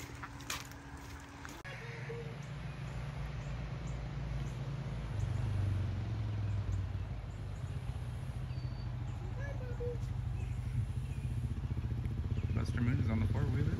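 A four-wheeler engine idles and revs in a low, steady rumble that grows somewhat louder partway through, heard outdoors at moderate distance with people talking intermittently.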